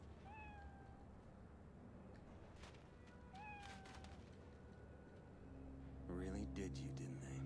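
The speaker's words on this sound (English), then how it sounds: "That same cat." A cat in the video game Cyberpunk 2077 gives two clear meows a few seconds apart, over a low background hum, and a voice talks near the end.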